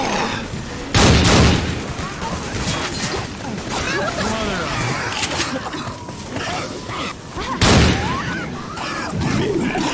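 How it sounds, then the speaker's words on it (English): Assault rifle fire in the zombie shooter Left 4 Dead 2 comes as loud bursts of rapid shots, clustered at about one second and eight seconds, amid game effects and a person talking. "Gonna rack some up with this assault rifle."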